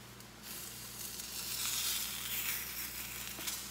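Batter sizzles and bubbles in a pan, a steady close crackling hiss that swells a little partway through and carries on with no talking.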